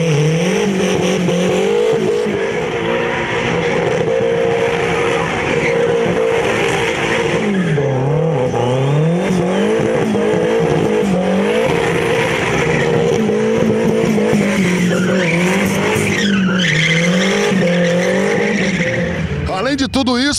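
A race car speeds past at over 140 km/h, engine roaring with wavering pitch and tires squealing, loud and continuous throughout, with an announcer-style voice over the top.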